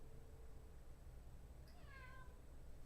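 A single faint cat meow rising and falling briefly, distant and soft beneath steady background hiss.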